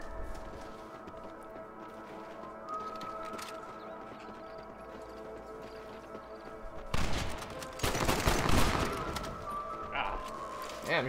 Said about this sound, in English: Damn, you hear that pistol action?